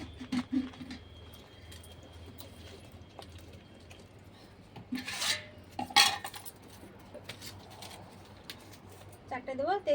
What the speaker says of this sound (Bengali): ভাতের জন্য হাঁড়ি বসিয়ে দেবো